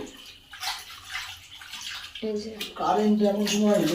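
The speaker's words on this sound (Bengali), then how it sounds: "এগুলো এখন ধুয়ে নিচ্ছে" Small aquarium items being washed in water, with splashing and sloshing that grows fuller toward the end while a person talks over it.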